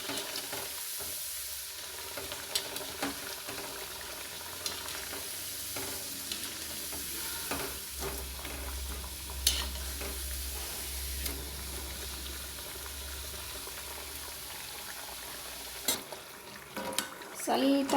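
Rice flour vadas frying in hot oil as they are turned, a steady soft sizzle with occasional clinks of a utensil against the pan, plus a low background rumble.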